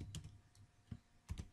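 Light taps on a computer keyboard, a few quiet clustered keystrokes with short pauses between them, close and faint.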